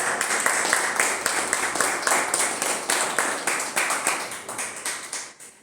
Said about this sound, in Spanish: Guillermo Coni, para quien también pido fuerte aplauso